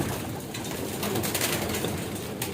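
Pigeons coo inside a loft over a dense, steady bed of bird noise and rustling, soft repeated calls blending with the crowded flock without any talk.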